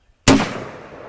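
A single loud rifle shot, fired while testing a UUQ Aspire ED 1-12x24mm LPVO scope, cracks sharply out of silence and leaves a long fading echo across an open range.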